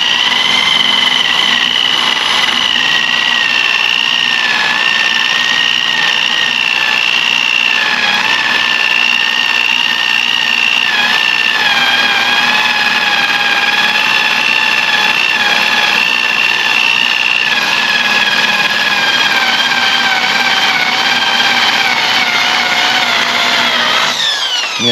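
A power tool spins a stripe-off wheel to strip decals and stickers from a boat hull, giving a loud, sustained high whine that holds steady for about twenty-five seconds with slight pitch wavering before cutting off at the end.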